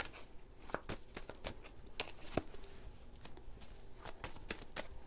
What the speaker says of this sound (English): It's like I keep shuffling to pull the amount of cards that I need